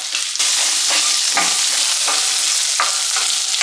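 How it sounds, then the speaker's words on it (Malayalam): Chopped coconut pieces fry in hot oil for a Kerala-style squid roast, with a loud, continuous sizzle broken by repeated scraping stirs of a utensil. "തേങ്കൊത്ത് ജസ്റ്റ് എണ്ണയിൽ കിടന്നിട്ട് ഒന്ന് ഫ്രൈ ആയിട്ട് കിട്ടണം"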